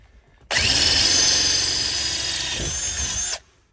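A power drill with a worn 3/16 bit whirs at high speed for about three seconds, drilling holes for a pedal set on a Porsche Cayman S 987, starting abruptly and cutting off sharply, close and loud.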